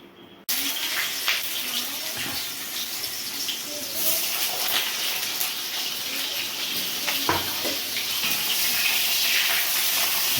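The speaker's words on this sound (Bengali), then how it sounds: "কাঁচকলাগুলো ভাজা হচ্ছে" Cut green bananas fry in hot oil, a dense steady sizzling hiss that starts abruptly and runs continuously, with faint clinks from a pan.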